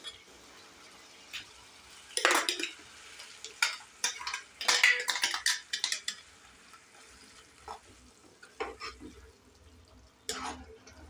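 Cashew paste goes into a tomato curry in a pot on the stove and is stirred, giving bursts of scraping, clinking spoon strokes over a faint background sizzle, some louder and close, others brief and light.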